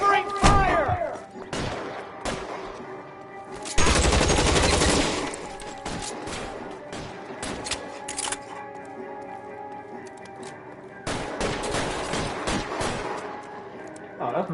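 Gunfire in the video game LA Noire comes in loud bursts of rapid shots separated by stretches of quieter ambient noise and scattered single cracks, with a voice heard in between.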